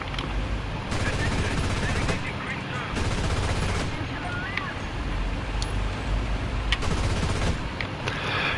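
Gunfire from the War Thunder video game crackles in repeated bursts and sharp single shots over steady engine rumble, loud and close, with a voice talking over it.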